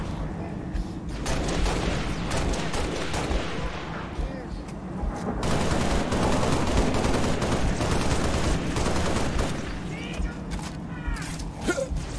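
Turret gunfire in Halo Reach, sustained heavy automatic fire with booming impacts that runs for several seconds, loud and close, mixed with game noise.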